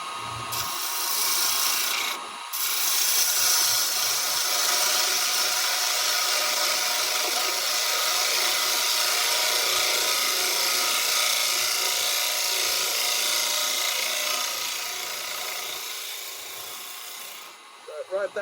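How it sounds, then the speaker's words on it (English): A spindle gouge cuts into wood spinning on a lathe while a Christmas bauble is turned, a steady loud rushing hiss of the cut over the machine's hum, easing off near the end. "Right, we'll go back to this spindly gouge."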